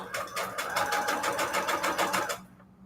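A sewing machine runs at a fast, even stitching rhythm for about two seconds and then stops, close and clear with no talk.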